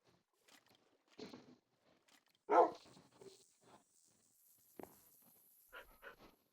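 A dog at a home balcony gives one sharp, fairly loud bark in an otherwise quiet room, with faint shuffling and panting sounds around it.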